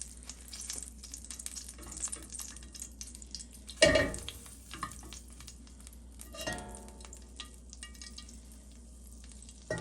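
Butter melting in a pan over turned-down heat gives a steady, soft sizzle throughout, broken by a sharp clank near the middle and a lighter knock of utensil on pan a bit later; no one speaks.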